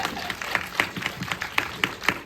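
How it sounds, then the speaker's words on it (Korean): An audience at a film screening talk claps in light, scattered applause, a modest crowd heard at moderate distance for a couple of seconds without speech. "박수 한번 부탁드립니다"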